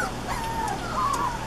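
Several puppies in a litter whimper and yip in high, wavering cries, close by and fairly quiet, with no talking.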